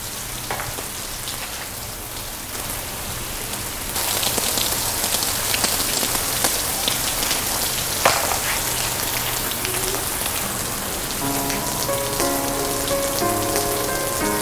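Heavy rain pours down at night in a steady dense hiss that grows louder partway through, with a soft sustained musical tone entering toward the end.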